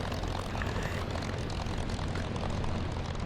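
Piston-engine roar of a P-51 Mustang fighter at takeoff power in a combat flight simulator, a loud, steady, dense drone held throughout with no break or voices.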